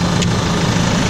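The 99-horsepower New Holland T5.95 tractor with Electro Command transmission runs steadily, its loud, close engine giving a constant low droning rumble with no change in pace and no talking.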